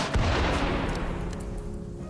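Rapid burst of gunfire from colonists shooting in the RimWorld video game, a loud dense volley that starts sharply and trails off over about two seconds, with no talking.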